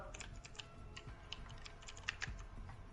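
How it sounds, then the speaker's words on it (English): A computer keyboard clatters with fast, irregular clicking keystrokes, moderately close and alone with no voices, as if someone is typing quickly. "Don't you hear the clicking of the keyboard?"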